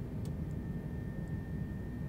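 Airbus A320neo engines at climb thrust in Microsoft Flight Simulator, a steady, loud low roar with a faint whine holding evenly throughout, alone without talk.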